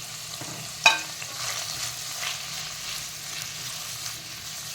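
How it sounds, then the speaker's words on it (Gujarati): Onion and chillies dropped into hot oil for veg pulao, a sharp clatter as they go in followed by a steady crackling fry that continues at moderate loudness. "હવે આ ડુંગળી અને આ મરચાં છે એ અંદર એડ કરી દઈશ"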